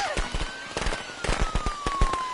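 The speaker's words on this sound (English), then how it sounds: "I got him with fireworks." Fireworks go off in a rapid run of sharp cracks and pops, some loud and close, with a thin whistling tone gliding slowly down beneath the bursts.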